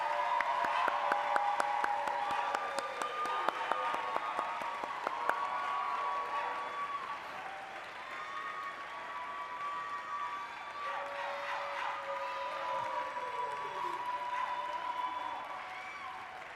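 Audience applauding at a college commencement ceremony for creative arts, a sustained round of clapping from a large crowd filling the hall, steady and even throughout.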